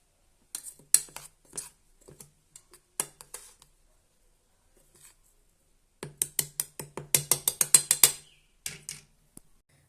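Roasted pepper, black sesame, cloves and rosemary leaves being ground by hand, heard as a series of short dry crunching and scraping strokes in two busy bursts separated by a quiet pause.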